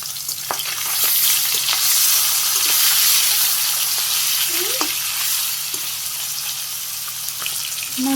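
Fish frying in hot oil for a Bangladeshi curry, a loud, continuous sizzle with crackling pops and occasional stirring scrapes, close up and without talk.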